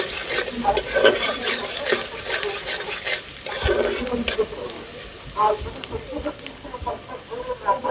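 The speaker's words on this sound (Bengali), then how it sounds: "তেলটা গরম হয়ে গেছে এই জায়গায় দিয়ে দিব পেঁয়াজ কুচি" Chopped onion is fried in hot oil for bhuna khichuri, giving a low sizzling hiss with stirring and pan clatter in a home kitchen. Chickens cluck nearby.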